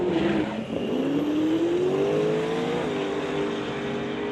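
A 2003 Ford Cobra drag car with True North Turbos power launches at an outlaw drag racing event, its engine roaring loud and close as the tires spin, with the pitch rising steadily, dipping briefly, then climbing again as it pulls away.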